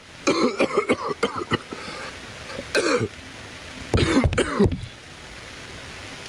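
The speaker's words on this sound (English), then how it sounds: "Because he has a condition where he coughs." An ailing man in the mystery game Agatha Christie: The ABC Murders coughs in several harsh, hacking fits, with a run of rapid coughs, a single bark, then another cluster before fading into quiet room tone.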